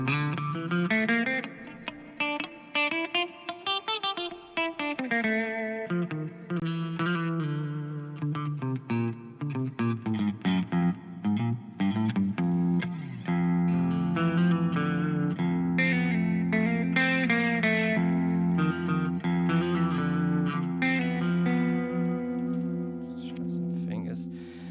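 Electric guitar played through overdrive with chorus and reverb, picking out math rock chord progressions: a sustained run of distorted chords and single notes, loud and continuous, ending in a brief clean strum.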